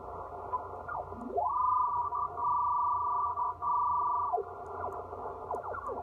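Icom IC-7300 HF transceiver tuned across the band: faint static hiss with a pure whistling tone that sweeps up, holds steady, then slides back down, plus brief chirps of passing signals.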